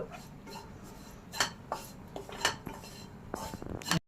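Desiccated-style coconut being sautéed in ghee in a pan for a carrot sweet, heard as intermittent clinks and scrapes of a spatula against the pan over a low steady background, with several sharper strikes.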